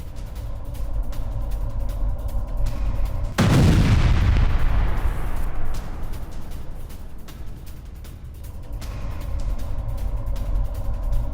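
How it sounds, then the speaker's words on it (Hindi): A heavy Ukrainian bombardment of a Russian base in the Petrovka area, one loud close blast at about three seconds booming and rolling away over several seconds, between rumbling background noise. "पेट्रोविका इलाके में यूक्रेन की बमबारी, ये देखिए जरा।"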